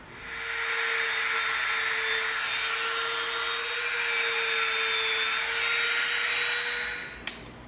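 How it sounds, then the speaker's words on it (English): A Dremel rotary tool whines steadily at high speed for several seconds while pressing rivet marks into EVA foam, a close, continuous buzzing drone with no talking. "now I'm gonna come in with my Dremel bit and we're gonna put some rivet marks on here"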